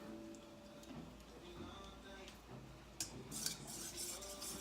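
Batter with vegetable oil being mixed in a bowl, soft scraping and clinking of a utensil against the bowl, faint, with people chattering in the background.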